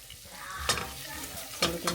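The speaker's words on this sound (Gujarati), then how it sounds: "ચાલો કે મિક્સ કરી નાખીએ બધું એટલે મીઠું પણ તેમાં ઓગળી જાય અને બધું મિક્સ થઈ જાય" A spoon stirs salt into a spiced mixture frying in a pan, with a soft sizzle underneath and a few sharp scraping strokes near the end.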